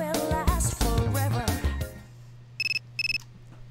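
Two short bursts of a phone ringing in Persona 3, each a quick electronic trill, following game music and a voice, with a steady low hum underneath.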